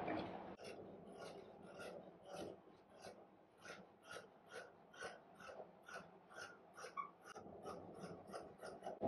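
Scissors cut through folded fabric for a skirt, a quiet series of evenly spaced crisp snips and rasping slides, close up and alone.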